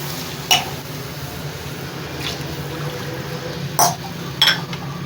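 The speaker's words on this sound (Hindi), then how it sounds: "दो गिलास मेरे चावल है, मैं 3 गिलास पानी डाल रही हूँ।" Water pouring into a cooking pot for rice, three glasses for two of rice, a low steady trickle and slosh with a few sharp clinks of glass against the pot.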